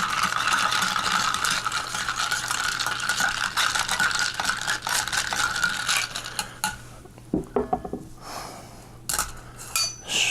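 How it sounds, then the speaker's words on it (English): A spoon clinks and rattles steadily against a glass while equal parts mango and strawberry seltzer are stirred into a cocktail, the clatter constant and close, thinning into a few sharper taps near the end. "Mix it up with your spoon, because this one is stirred"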